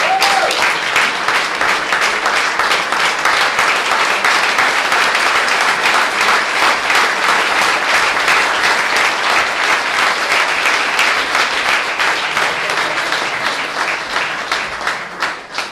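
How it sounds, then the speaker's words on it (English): Sustained, loud applause from the audience at a chocolate competition's national finals winner announcement, a dense, even wash of many hands clapping for over fifteen seconds before tapering off at the end. "A big round of applause for the support."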